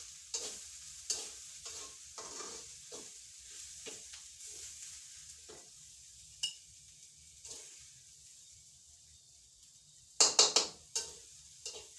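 Fermented pork (naem) being stir-fried with rice in a pan, a soft background sizzle punctuated by repeated scraping and tapping strokes of a spatula, with a short burst of sharper clanks near the end.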